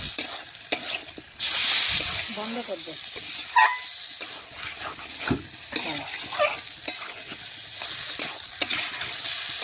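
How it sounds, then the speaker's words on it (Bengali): Chicken is stirred and fried with spices over a wood-fired clay stove, with a quiet sizzle under irregular scraping and stirring knocks; a voice talks briefly in the background. "নাড়াচাড়া করে চিকেনটাও দেখুন মশলার সাথে মিশিয়ে নেব।"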